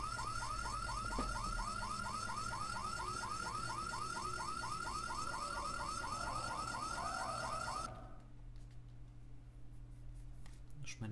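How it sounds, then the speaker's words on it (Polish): A car alarm in the video game Bully: Scholarship Edition cycles through a rapid, repeating electronic whooping siren for about eight seconds, then cuts off suddenly and leaves quieter background sound. "Już męczący ten alarm"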